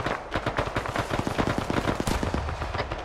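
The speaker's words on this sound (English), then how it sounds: "Oh god, they're shooting!" Rapid automatic gunfire in a military shooter video game, dense bursts of loud shots crackling one after another in quick succession with a few heavier reports mixed in, continuing throughout.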